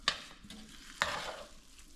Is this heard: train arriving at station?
no